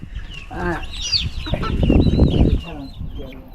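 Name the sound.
domestic chicken clucking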